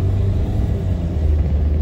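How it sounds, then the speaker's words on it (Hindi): A car engine rumbles low and steady as the vehicle pulls out of a tight parking spot and drives off, close by and with no talk over it. "अब निकली गाड़ी"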